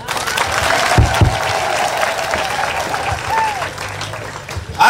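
Audience applause fills the space in a steady, dense patter of many hands clapping, close and loud, with a voice speaking over it and a sharp burst at the very end.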